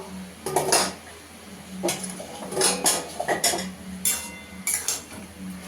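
A spoon stirs food in a pan over a low gas flame, with posto (poppy seed) and chichinga (snake gourd) being cooked; several scraping clinks of utensil against the pan come in irregular bursts, close and moderately loud, with no talk.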